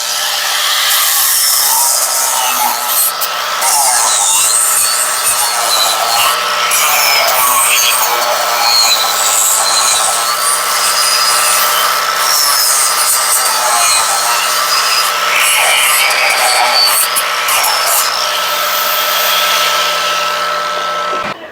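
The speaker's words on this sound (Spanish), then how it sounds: "Vamos a aprovechar para pasarle un disco flat grano 80" An 80-grit flap disc on an angle grinder whines steadily and loudly for about twenty seconds, scraping burrs off a Kodiak front axle with a harsh, continuous abrasive hiss.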